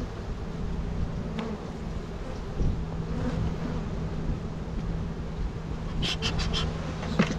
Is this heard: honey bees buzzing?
yes